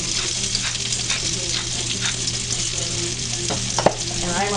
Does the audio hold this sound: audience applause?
no